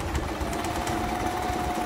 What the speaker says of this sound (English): For this side, you can sew all the way down.